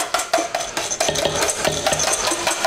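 A small whisk beats a thin, soupy sauce in a bowl: quick, rhythmic clicking and scraping strokes against the side, close and fairly loud, with no voices.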